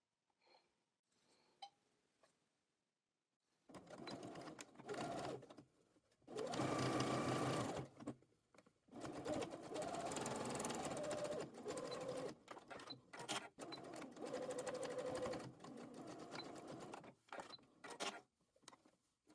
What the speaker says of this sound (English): Sew 2 rows of stitches, one close to the folded edge and the other close to the raw edge.